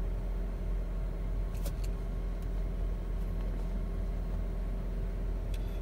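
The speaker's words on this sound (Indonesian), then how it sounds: "Ini udah nyala mesinnya, udah ngisi baterainya." A 2023 Toyota Zenix Hybrid engine runs while charging its battery, a quiet, steady low hum heard from nearby, with a few faint light clicks and no voices.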